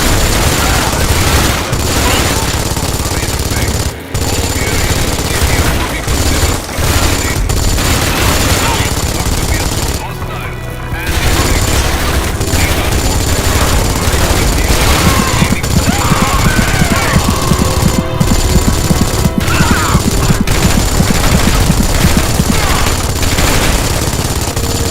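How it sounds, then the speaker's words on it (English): Machine gun fire in the video game Dark Sector rattles loudly and almost continuously in long automatic bursts with brief gaps, mixed with booms and a voice speaking over the shooting. "Try the machine gun."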